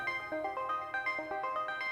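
An Elektron Digitone synthesizer plays a second techno arpeggio, a quick pattern of chiming, bell-like notes stepping up and down at an even pulse, upfront and alone.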